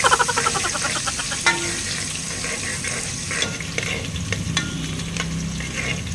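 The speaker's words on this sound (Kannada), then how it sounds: "ಈರುಳ್ಳಿ ಹಾಕಿ ಚೆನ್ನಾಗಿ ಫ್ರೈ ಮಾಡಿ ಚಟಾಪಟ ಚಟಾಪಟ" Onions frying in oil in a pan for chicken biryani, a steady close sizzle with scraping spoon-stirring strokes and a few clatters, no talking.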